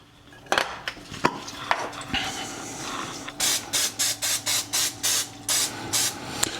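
A few clinks of a skillet heating, then a rapid series of short cooking-spray bursts hissing in a steady rhythm, close by.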